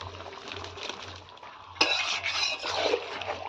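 Chicken pieces with skin-on meat stir-fried with spices and Kashmiri chilli powder in a pan give a steady scraping, clinking stir with soft sizzle, louder from the middle onward, close and continuous with no talk.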